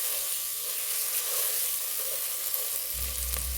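Garlic ginger paste sautéing with caramelized onions for a fish soup: a steady, close sizzling hiss with faint stirring, and a low thump near the end.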